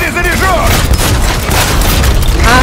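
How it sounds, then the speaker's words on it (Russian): Gunfire in the video game Cyberpunk 2077, loud dense booming shots and blasts layered with music and game effects, while a voice talks over the action. "вот выстрел в голову тут нормально проходит"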